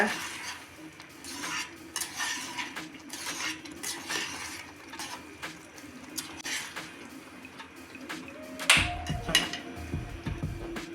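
Watermelon kheer with cardamom powder, roasted cashews and raisins stirred in a pot with a metal spoon, light clinks and scrapes in an uneven rhythm, close and soft, ending in a louder knock of the utensil against the vessel, no voices.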